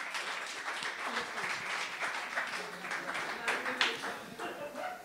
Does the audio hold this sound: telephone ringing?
no